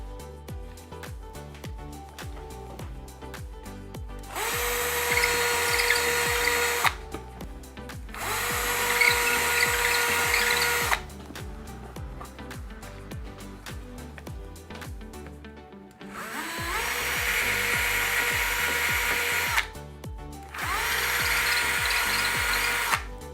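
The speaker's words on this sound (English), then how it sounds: "I've got my cordless drill all charged up and ready to go, and I've got a suitable masonry drill bit attached for this wall that I'm going to drill into" Cordless drill fitted with a masonry bit boring into a plaster wall, heard in three long loud bursts of steady high whine separated by quieter pauses, close up with no talking.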